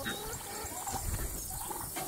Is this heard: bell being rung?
no